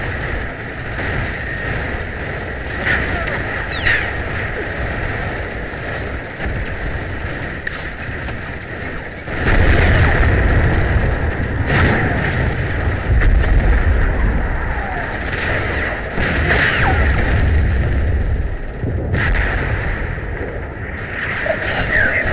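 Intense artillery and machine gun fire pound a farm objective in the wargame Combat Mission, a dense rumbling barrage with deep booms that grows heavier midway, alongside intermittent broadband crackle.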